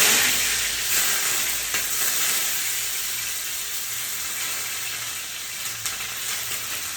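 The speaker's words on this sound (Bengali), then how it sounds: "তেল গরম হয়ে গেছে তো আমি এগুলো সব দিয়ে দেবো একটা একটা করে পেঁয়াজটা প্রথমে" Onions dropped into hot oil in a home kitchen give a loud, steady sizzling hiss that slowly softens across the stretch.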